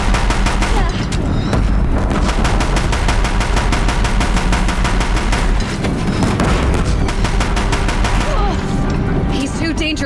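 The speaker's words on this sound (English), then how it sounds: "If the Deathbringers keep firing," Deathbringer machines in Horizon Zero Dawn fire a relentless, loud barrage of rapid shots and booms that runs without pause, with a voice speaking now and then under the din.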